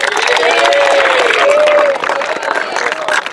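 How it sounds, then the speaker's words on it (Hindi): An audience at a student-led Rotary organ donation event in Meerut claps loudly in a dense, continuous burst, with crowd noise and voices mixed in, easing off toward the end. "आप जोरदार ताली बजाइए"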